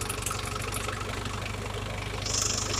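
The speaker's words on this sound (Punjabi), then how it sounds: "ਹੁਣ ਕਰਾਂਗੇ ਰੇਸ਼" A 45 hp model 450 tractor engine runs with a steady low throbbing chug, fairly close and unchanging, with a faint higher whine near the end.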